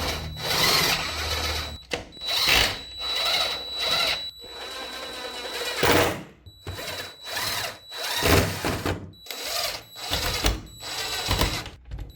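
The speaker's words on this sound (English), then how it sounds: "Now we're going to take our 8 wood screws and put the other side in." Eight wood screws are driven into a sewing table during workstation assembly, producing loud, close bursts of power-drill whirring about a second long, repeated with brief pauses between.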